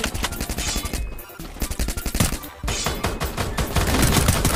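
A shooting video game plays dense, loud bursts of rapid gunfire, with automatic weapons firing almost continuously and only a couple of brief pauses.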